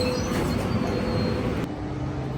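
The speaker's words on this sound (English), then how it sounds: "729 highballing out of here" An Amtrak Capital Corridor train, number 729 hauled by an SC-44 Charger locomotive, rumbles out of the Oakland Coliseum station with a steady loud mechanical drone and faint high squeal, no voices.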